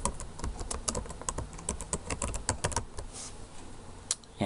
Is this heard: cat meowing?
no